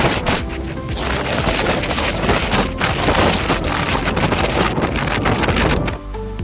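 Strong wind buffets a phone microphone on a white-sand fishing beach, a loud continuous roaring rush with gusty surges that fills the whole stretch, with no voices.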